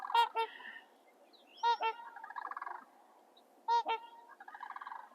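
Sandhill cranes call near a lakehouse at sunset, heard from a kayak. Three bursts of rolling, rattling bugles ring out at regular intervals, moderately distant and alone over quiet surroundings.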